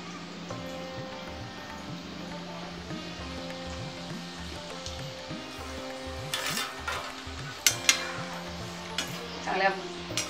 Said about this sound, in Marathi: तेल चांगलं तापलंय, त्याच्यामध्ये एक एक मोदक सोडूया.